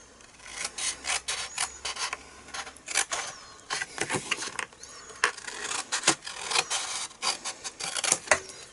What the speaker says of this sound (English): So you're going to cut down to the score line, and then you're going to cut off everything.